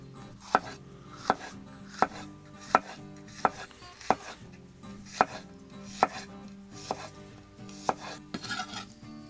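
A knife slices a green bell pepper on a cutting board for sausage and pepper cheesesteaks, with crisp regular chops about every half to one second, close and clear.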